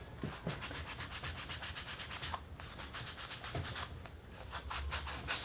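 Close, continuous sanding of the edges of a wooden ping pong shooter, a dense rhythmic rasp of quick back-and-forth strokes with a couple of brief pauses, fairly loud and alone.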